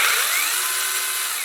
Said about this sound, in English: Now to engage the chainsaw, push down on the safety and then pull the trigger.